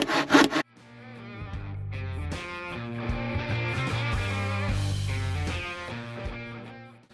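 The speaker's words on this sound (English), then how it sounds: "the good old-fashioned handsaw does a smoother, straighter cut" A handsaw cuts through a wooden rafter being trimmed to length, making a continuous rasping, scraping stroke sound that follows a few sharp knocks, close and loud with no talking.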